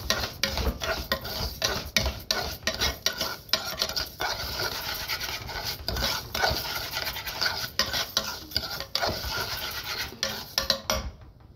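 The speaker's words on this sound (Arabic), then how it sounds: "لازم نقلب فيه كويس، هو برضو لسه محمرش معانا" Food browning in a pan is stirred hard and repeatedly, a close, rhythmic run of scraping and rubbing strokes against the metal over a low frying hiss.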